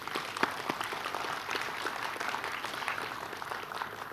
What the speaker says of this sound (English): So you can also thank yourselves, to give yourselves a hand clap.